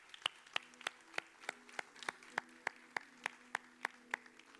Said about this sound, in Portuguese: Vamos aplaudir a Ele, nosso Senhor